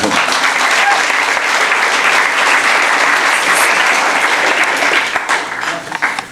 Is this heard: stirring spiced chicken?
no